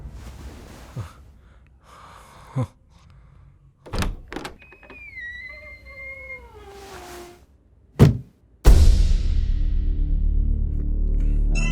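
A door being opened in a Hindi-dubbed sci-fi thriller film: scattered thuds and clunks, a sliding whine in the middle, a sharp knock, then a dense wash of loud background sound.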